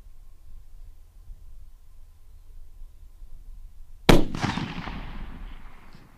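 A single precision rifle shot fired at a target 300 yards out on an open range cracks sharply after several seconds of quiet, then a rolling report trails off slowly.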